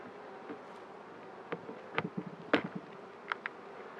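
Honeybees during a spring beehive inspection: a low, soft hum of buzzing in the background, broken by several sharp close wingbeat passes and light clicks as bees fly near, with no voices.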